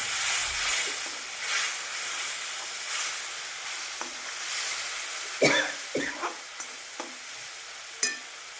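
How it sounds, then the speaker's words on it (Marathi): Masala cooks in oil with a splash of chickpea cooking water, a steady low sizzle and hiss interrupted by several sharp spoon scrapes and stirs against the pan. "मसाला छान तेल सुटेपर्यंत शिजू देते"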